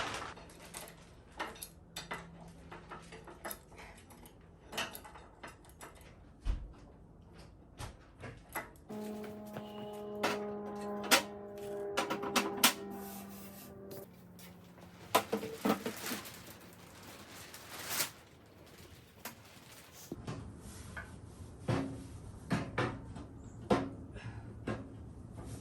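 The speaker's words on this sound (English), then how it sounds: "let's get this door on." A metal door is fitted onto an antique wood stove being restored, with scattered metallic clanks, scrapes and ringing taps close by that come in irregular bursts and have no talking over them.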